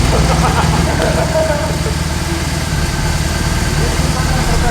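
A BMW R18 boxer twin motorcycle engine idling with a steady, loud low rumble, close by, while someone talks over it.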